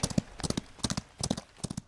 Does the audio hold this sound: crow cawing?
no